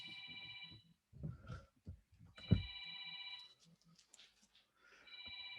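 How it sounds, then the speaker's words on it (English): A telephone rings in repeated electronic bursts during a classroom lecture on random variables, with three ring bursts separated by low thumps and muffled room noise. "My phone is ringing, but it's inconsequential."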